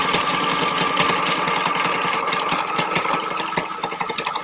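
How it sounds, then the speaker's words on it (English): A sewing machine runs continuously while stitching along the bottom edge of a fabric mask, its fast, even mechanical chatter close and steady throughout. "Put the other piece of elastic underneath it, and then sew over that again a couple of times."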